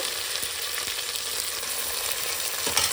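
Washed mutton pieces hitting hot oil in a pan with browned onions, giving a steady, loud sizzle and frying hiss throughout, with a few soft stirring scrapes and no talking.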